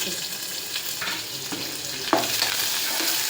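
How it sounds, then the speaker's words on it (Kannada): A curry with coriander fries in a pan, giving a continuous close sizzle with occasional scrapes and one sharper clank of a spoon partway through, and no voices. "ಸ್ವಲ್ಪ ಕೊತ್ತಂಬರಿ ಹಾಕೊಂಡು ಈ ಥರ ಒಂದು ಸ್ವಲ್ಪ ಫ್ರೈ ಮಾಡಿರಿ"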